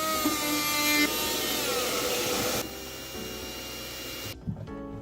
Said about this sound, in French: On utilise notre petit multitool avec la petite scie pour pouvoir venir découper.